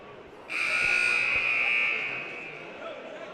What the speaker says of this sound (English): First buzzer is sounded, so 30 seconds have passed.